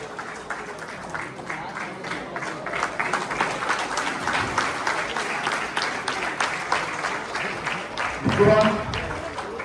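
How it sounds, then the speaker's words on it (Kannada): Audience applause honouring seven soldiers at a Buddha Purnima gathering of an ex-army welfare association in Mundgod, a steady mass of clapping held for several seconds with a brief louder burst near the end. "ಈ ಎಲ್ಲ 7 ಜನ ಸೈನಿಕರಿಗೆ ಜೋರಾದ ಚಪ್ಪಾಳೆಯೊಂದಿಗೆ ಅವರನ್ನ ಗೌರವಿಸಬೇಕಾಗಿ ಈ ಮೂಲಕ ಕೇಳಿಕೊಳ್ತಾ ಇದ್ದೇವೆ"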